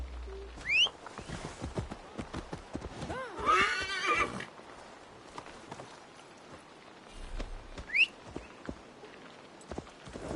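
A horse in the video game Assassin's Creed Valhalla whinnies loudly, then hooves clip-clop steadily along, with a second whinny later over the galloping footfalls.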